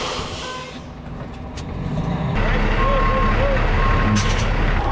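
Truck reversing beeps during straight-line backing practice at a truck driving course, a few steady tones sounding over loud engine rumble and low road noise.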